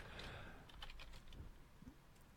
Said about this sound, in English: I can hear you typing furiously.